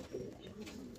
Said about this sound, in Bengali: দেখতে পাচ্ছ কত সুন্দর পায়রা আছে একদম